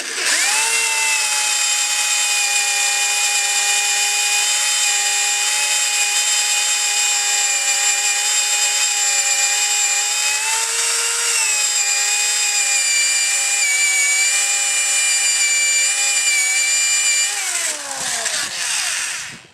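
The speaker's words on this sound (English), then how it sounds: "so we'll just let the saw do the rest" A power-driven hole saw bores a door knob hole through a wooden door, producing a loud, steady, close whine that holds an even pitch, dips slightly midway, then winds down as the cut finishes.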